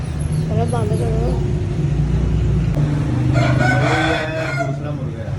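A rooster crows loudly and nearby, one clear call early on and a second later, over a constant low rumble of engine and traffic, with people talking in the background.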